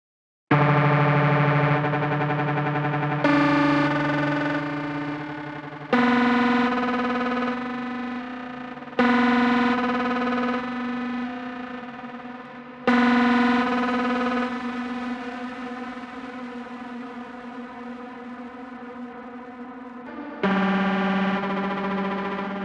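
Sustained synthesized tones from an MPC 2000XL sampler change pitch in blocks, heavily drenched in reverb and distortion, each note washing into a long echoing tail; no voices.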